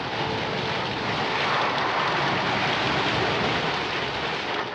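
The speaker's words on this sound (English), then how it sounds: "This storm is the worst I've ever seen." A heavy storm over the Pacific, with dense roaring rain and rumbling mixed with a low-flying airplane's engine drone, loud and steady throughout, no voices.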